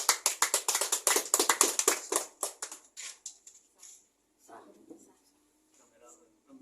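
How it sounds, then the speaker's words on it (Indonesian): A roomful of people at a formal gathering claps quickly and densely, then the applause thins out and fades, leaving faint low voices and room sounds afterward. "Oke, tepuk tangan dulu."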